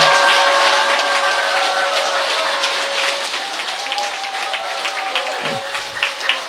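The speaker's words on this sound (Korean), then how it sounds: "우리 신인님께 큰 박수" An audience at a religious lecture gathering applauds in a loud, sustained wash of clapping that eases slightly toward the end, with faint tonal sounds running underneath.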